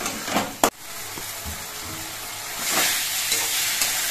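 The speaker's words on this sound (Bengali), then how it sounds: "এবার মশলাটা কিছুক্ষণ কষিয়ে নিতে হবে।" Spice paste with tomatoes and a splash of water sautés in a pan, a sharp metallic clack of a utensil, then a steady hissing sizzle that swells louder toward the end, close by without speech.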